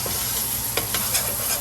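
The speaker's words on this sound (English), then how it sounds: "Now that the jeera has started to kind of sizzle, we're gonna go ahead and add in all of our garlic" Garlic and jeera sizzle steadily in a hot pan of oil while a spoon stirs them, adding a few soft scraping clicks over the constant close frying hiss.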